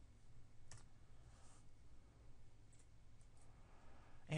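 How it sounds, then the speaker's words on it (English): Soft, quick keyboard clicks from typing into a computer, faint and sparse over a low steady hum. "So I'm just going to type in here tank underscore DIA"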